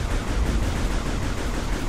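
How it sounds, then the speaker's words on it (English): Enemy laser shots in Metroid Prime 3: Corruption blend into a dense, continuous barrage of loud, noisy blasts that sounds like rapid fire without clear breaks. "he's shooting a laser at me"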